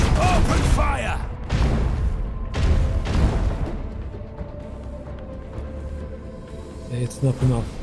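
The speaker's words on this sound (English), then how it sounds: "Macro cannons, open fire!" Macro cannons thunder from a starship in Warhammer 40k: Rogue Trader, a couple of deep booming blasts early on that decay into a low mechanical drone, with a voice speaking over the start and end.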